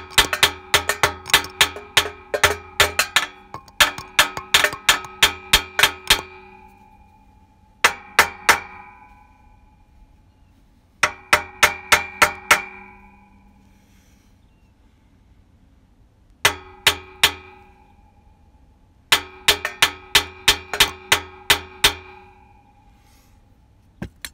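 A hammer taps around a broken bolt on a Kawasaki FX751V engine: close, sharp metallic strikes with a bright ring, falling in quick clusters separated by short pauses, with no talking.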